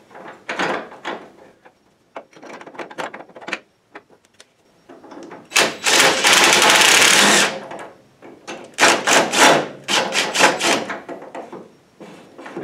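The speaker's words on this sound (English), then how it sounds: "get the bolts started." Bolts being started on the door of a 1968 Ford Mustang, a close, gritty run of rasping, ratchet-like bursts that is sometimes long and continuous and sometimes choppy, with quiet gaps between.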